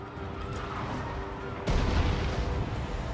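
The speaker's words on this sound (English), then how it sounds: "Was direct hit by the Hell Cannon." Hell Cannon artillery fire in a fantasy battle video game, a heavy boom that bursts in midway over a steady rumbling battlefield din, with no voices.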